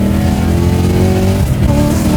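A supercharged V8-swapped BMW E30 pulls hard under acceleration, its loud, close engine roaring steadily with rising and falling pitch and a brief tire scrub.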